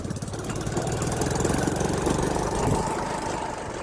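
A tractor engine runs close by on a village farm, a loud, steady, chugging rumble with a rapid knocking pulse that holds throughout.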